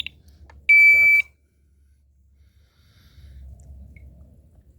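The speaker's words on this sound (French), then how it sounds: "L'alarme est en route, mais on peut se baigner." A swimming pool alarm being re-armed gives one shrill electronic beep lasting about half a second. Quiet, faint handling noises follow.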